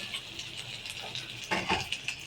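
Spices with salt, turmeric, chili and cumin are stirred in a pan, a few soft scraping strokes and light clinks, quiet and close.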